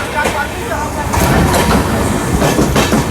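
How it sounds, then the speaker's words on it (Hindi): A freight train passes close by on the adjacent track beside an Indian Railways express between Patna and New Delhi, with a loud, continuous rushing roar broken by rhythmic clickety-clack wheel bursts. "बीच में फ्रेट आ गया भाई।"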